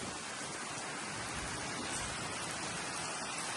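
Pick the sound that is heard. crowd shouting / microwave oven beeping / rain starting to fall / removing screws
rain starting to fall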